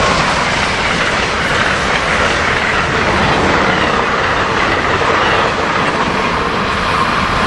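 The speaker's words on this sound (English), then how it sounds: "Here we have Amtrak train 97 headed south past Cornwells Heights here." Amtrak train 97, led by engine 916, passes southbound through Cornwells Heights station, a loud, close, steady roar of wheels and clattering rails that holds throughout without any talking.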